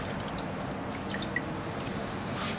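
Water drains and drips from wet recycled paper pulp as it is pressed during handmade paper making. The wet, dripping noise is steady and close throughout, with small squishy splashes.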